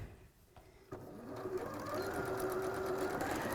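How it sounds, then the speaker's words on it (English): A sewing machine runs a 5/8 seam across the bottom of a tote bag, a steady close mechanical whir that starts after a brief pause and continues without a break to the end. "Then do a 5/8 seam across the bottom"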